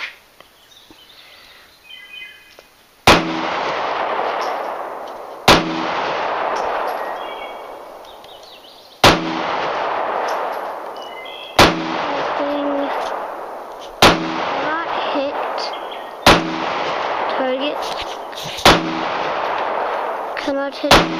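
Pistol shots at a shooting range: eight loud, sharp cracks spaced a few seconds apart, each with a long echoing tail, and faint talk audible in between.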